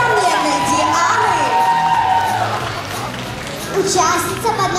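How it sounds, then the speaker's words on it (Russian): A children's mini-miss pageant crowd in Chernihiv, 2015, cheers and shouts loudly and continuously for a young contestant, with excited voices filling the hall. "Аплодисменты для несравненной Дианы."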